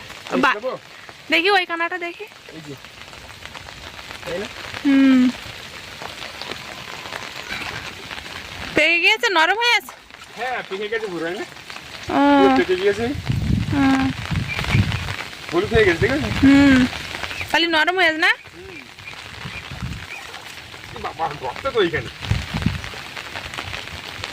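Heavy rain falls on a Sundarbans village with a steady, broad hiss while people talk over it at intervals.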